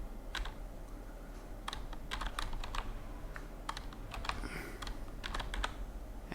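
Keys on a computer keyboard are typed in scattered, quick bursts of soft clicks, fairly faint and close, with no talk.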